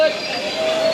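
A very long train rolls past in Nashik, India, with a steady metallic hum and a high wheel squeal, heard for a brief moment at moderate distance.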